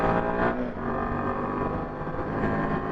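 A Royal Enfield Himalayan 450 motorcycle cruises at part throttle, its engine giving a steady, low, chugging drone with faint wind rush, continuous and moderately loud.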